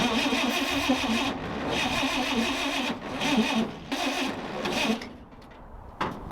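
Chevy Apache pickup truck engine cranking on a worn starter, a steady rough churning in repeated bursts separated by brief pauses, fading near the end with one final short burst.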